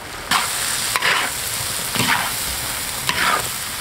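Vegetables and side ingredients stir-fried in a hot wok for a spicy pot dish, with a steady sizzle and about four distinct scraping tosses of the spatula, close and loud.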